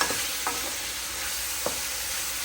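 Onions and tomatoes stirred in a hot pan, a constant fizzing sizzle broken by a few soft spatula scrapes, close and fairly even throughout.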